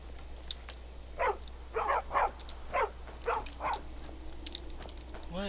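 A dog in the video game Skyrim barks in a series of six or so sharp, mid-distance woofs spaced unevenly over a few seconds, with a faint game ambience underneath and a brief voice at the end.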